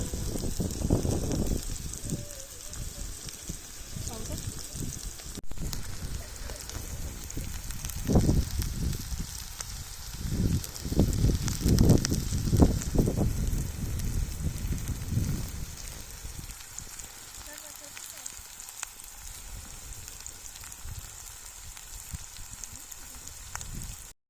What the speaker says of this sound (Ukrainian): А сковорідка добре прогрілась, також олія є гарячою, отож висипаю туди цибулю та буду підсмажувати.